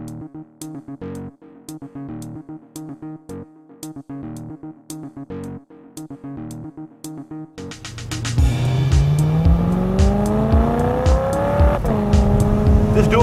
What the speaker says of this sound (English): Clattering, metallic, kind of clanking. Big old lumpy square cam kind of idle.